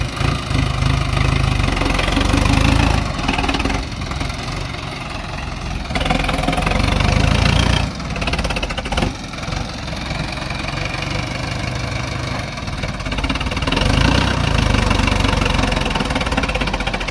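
A Sonalika DI 750 tractor's diesel engine chugs steadily nearby, its low rumble rising and easing in load over about seventeen seconds with a rough knocking texture.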